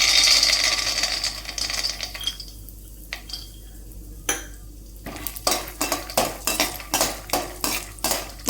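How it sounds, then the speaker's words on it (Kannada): Peanuts frying in hot oil for avalakki kara are stirred with a metal utensil, giving a soft sizzle with sharp, repeated scraping clatters that grow busier toward the end. "ಈಗ ಆಯಿಲ್ ಬಿಸಿ ಆಗಿದೆ. ಮೊದಲನೇದಾಗಿ ನಾವು ಶೇಂಗಾನ ಫ್ರೈ ಮಾಡ್ಕೊಳ್ಳೋಣ."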